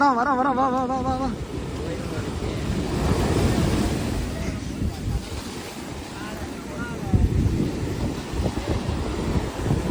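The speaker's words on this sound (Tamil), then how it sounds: "செம்ம அலை வருது" Big sea waves crash and surge onto a Kerala beach in a continuous, rolling roar, with wind buffeting the microphone and voices talking in the foreground.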